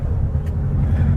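A 1972 VW Beetle classic car rumbles steadily at low pitch, a continuous near engine and road drone throughout with no talk.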